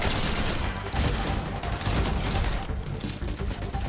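A combat AR rifle in a video game fires rapid, dense bursts of gunfire, with loud continuous shots rattling almost unbroken for several seconds and brief dips between volleys.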